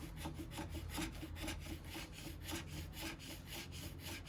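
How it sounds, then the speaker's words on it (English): A plastic scraper is drawn over a ski base during a tuning repair, making steady back-and-forth rasping strokes in a quick, even rhythm, close and continuous with no talk. "I like to use the plastic scraper a lot more. You can be a lot more gentle with it."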